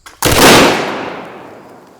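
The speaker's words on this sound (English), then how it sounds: "The slow-mo of the switch showed more toroidal plasma vortices and even angrier explosions." A high-current switch blows open with a single sharp, loud explosive crack that melts the cable, its bang decaying into a long fading roar over about two seconds, with no talk.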